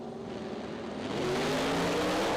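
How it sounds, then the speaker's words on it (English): A drag race car at the Street Car Super Nationals in Las Vegas launches hard, its engine rising to a loud steady roar as the tires spin, with broadband tire noise layered over the engine tone. "Oh, and he blazes the tires"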